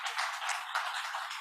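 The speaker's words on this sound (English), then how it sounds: "A round of applause for him as he comes." An audience at a talk applauds a speaker coming to the stage, a continuous wash of many hands clapping at moderate volume with no voices over it.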